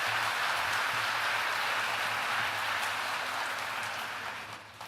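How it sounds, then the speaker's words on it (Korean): At a Catholic diocesan retreat, a gathered congregation applauds to welcome Father Raphael before his lecture. The clapping is thick and steady, like rain on a roof, and fades out near the end, with no speech. "큰 박수로 환영해 주시겠습니다"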